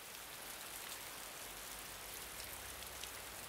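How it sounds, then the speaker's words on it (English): Steady rain in the Tucson desert falls as a dense, even hiss with no let-up and no voices, a soft but constant wash of drops. "Apparently it rains in the desert."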